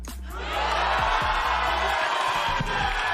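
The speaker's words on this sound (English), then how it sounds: "everyone is on their feet cheering" An esports arena crowd roars and cheers throughout a Valorant match between Cloud9 and Sentinels, a dense sustained wall of shouting and whoops with a few low thumps underneath.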